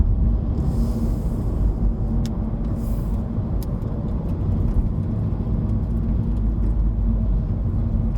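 A 2020 Honda Civic 1.5 turbo climbing Genting hill, with a steady low engine drone and road rumble throughout and faint ticks and clicks above it.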